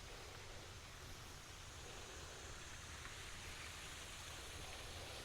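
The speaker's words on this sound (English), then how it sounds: "The waterfall over there, that is a man-made waterfall" Man-made waterfall at a park wetland in Beaumont, Texas, a steady broadband rush of falling water heard from a short distance, continuous and even throughout with no voices.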